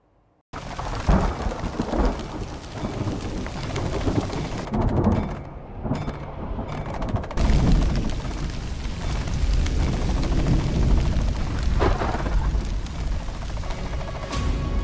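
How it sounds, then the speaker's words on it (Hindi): Heavy rain falls steadily in the Kedarnath valley, a loud continuous roar broken by deep rumbling thunder that swells and fades. "केदार घाटी में जबरदस्त बारिश हो रही थी।"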